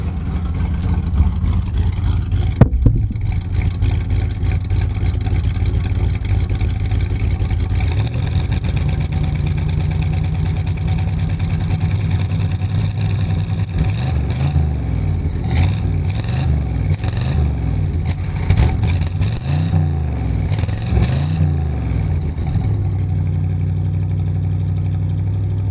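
A 1984 two-door Chevy Caprice engine runs steadily near the microphone with a slight exhaust leak, idling for several seconds before a series of rising and falling revs in the second half, with no talk.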